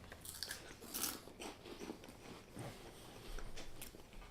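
A cheese French fry snack is crunched between the teeth in a few brittle, close bites followed by quieter chewing, faint and brief.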